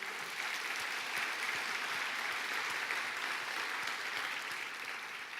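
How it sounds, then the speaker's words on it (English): Crowd at a community heritage awards event applauding volunteers, a continuous, even patter of many hands clapping, heard from a distance and fairly quiet throughout. "let's give a round of applause to all of our volunteers"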